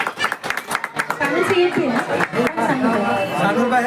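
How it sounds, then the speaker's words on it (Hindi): Guests clap at a mass wedding celebration in Mumbai, a scattered burst of hand claps that thins out as a crowd chatters and voices talk over the hall. "जोरदार तालियां हो जाए।"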